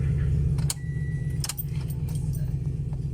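Car keys jangle and click in the ignition of a 2010 Toyota Vios that cranks but will not start, a few short metallic rattles over the steady hum of the car.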